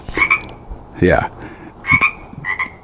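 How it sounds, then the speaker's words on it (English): Frogs croak outside a house in loud, repeated bursts, with several calls overlapping across a few seconds and a brief spoken word between them. "Just croaking their little hearts out."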